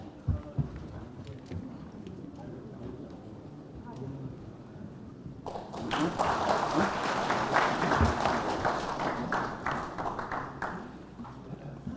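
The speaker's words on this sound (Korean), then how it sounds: "큰 박수 부탁드리겠습니다" Audience applause breaks out midway through, rising to a steady, fairly loud wash of clapping after a stretch of quiet room noise and murmuring, welcoming a speaker at a Korean lecture on Chinese-character education.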